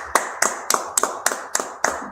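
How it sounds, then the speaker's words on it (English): Clapping in a Wednesday night biblical law class, heard as eight sharp, evenly spaced claps in a slow, steady rhythm, close and fairly loud with no talk. "Let's clap it up."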